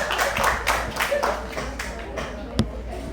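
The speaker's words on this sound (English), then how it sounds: "give your friend a clap" Students in a lecture room clap briefly for a classmate, with a short burst of scattered hand claps heard under a voice and room noise.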